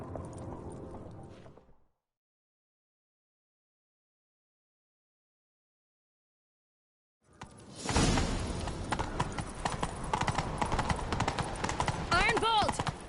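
Horses gallop hard in a chase within The Witcher 3, a dense run of rapid hoofbeats on the ground filling the later part, with a brief burst of game sound and speech before a stretch of silence.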